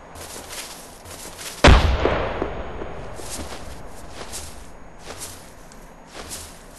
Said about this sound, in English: I just threw a grenade, but I don't know if I got him yet